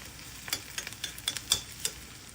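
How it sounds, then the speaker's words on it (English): Onion sautés in a pan, the soft sizzle broken by a series of quick clinks and scrapes as a utensil stirs it, close up and without talk. "We're just going to saute this onion a little bit."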